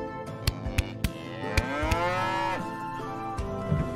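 A bull in the video game First Feudal gives a long, loud, drawn-out moo over a background of sharp intermittent clicks and knocks, with no speech.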